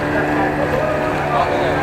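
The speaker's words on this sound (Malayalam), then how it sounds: "അതേ പോകുന്നു സ്പീഡ് ബോട്ട് വീണ്ടും തിരിച്ച്" A speedboat heading back across an Alappuzha backwater, its engine a steady continuous drone throughout, with people talking over it nearby.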